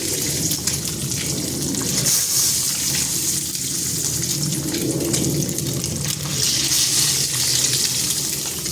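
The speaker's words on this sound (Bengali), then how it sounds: "ডিমগুলোকে ভেজে নিচ্ছি।" Eggs frying in a pan with bean pods, a steady loud sizzle and hiss that continues without a break.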